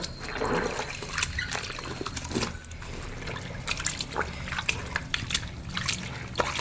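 Water pours into a bucket to soak new clothes, an uneven splashing trickle with sharp bursts of sloshing and gurgling close by, steady in loudness throughout.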